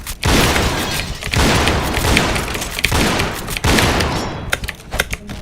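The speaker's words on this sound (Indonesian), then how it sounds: "Tuh 2 bom gua udah gua buang." Grenade explosions in Point Blank, a string of loud close blasts and bursts of gunfire-like crackle in quick succession, each dropping off briefly before the next.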